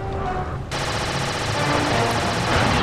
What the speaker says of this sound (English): you have to focus on who is shooting you over there